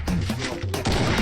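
Gunfire in a battle royale video game comes as rapid bursts of loud shots with a brief pause between volleys, close and punchy.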